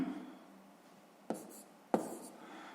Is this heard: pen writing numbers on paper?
yes